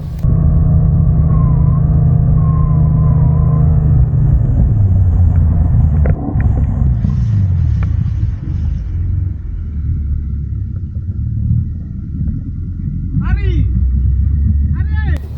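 A speedboat engine roars loudly as the boat drifts and turns at sea near Ora Beach in Maluku, its rumble dropping in pitch and steadying, with voices and splashing.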